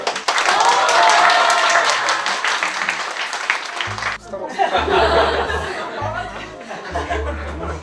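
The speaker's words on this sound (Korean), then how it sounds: "서재원 씨가 예, 축하 박수 한 번 쳐주세요." Office staff clap together in celebration, a dense burst of applause with laughter and cheerful chatter over it, fading toward the end as people keep talking.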